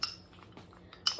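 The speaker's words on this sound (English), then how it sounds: "So I like to give it a nice little stir." A spoon stirring a homemade ginger drink in a glass, giving a couple of bright, close clinks against the side with quiet swishing between them.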